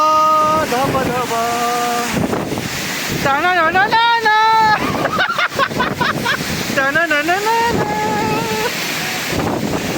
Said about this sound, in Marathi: इथं ते धबधबाला, इथं ते आहे धबधबा.